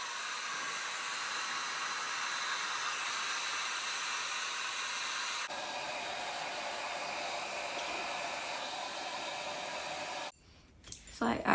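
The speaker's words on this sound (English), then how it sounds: "the first thing I'm going to be doing is drying my hair" A hair dryer blows steadily on wet hair, a loud, close, continuous whooshing roar that shifts setting midway and then cuts off near the end.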